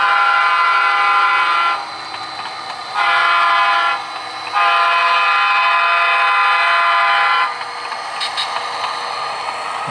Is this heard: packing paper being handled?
no